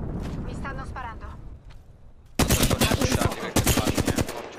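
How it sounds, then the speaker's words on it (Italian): Video game shooter gunfire in a ranked match: after a quieter stretch with a voice talking, two loud rapid bursts of automatic fire crackle close by, one just after the other. "Qua dentro mi stanno sparando."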